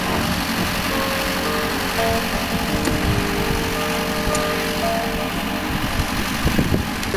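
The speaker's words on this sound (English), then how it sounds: "Land Rover's a bit noisy because the exhaust fell off" A Land Rover Defender towing a 45 ft caravan off road runs loud and rough after its exhaust fell off, a steady close engine drone with occasional knocks and rattles throughout.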